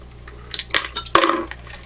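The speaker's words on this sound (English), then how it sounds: "And you pour some cold water on it." Cold water is poured onto hot glass while cutting glass for a kaleidoscope: a short, close splash with sharp clinks and a brief crackle over a low, steady hum.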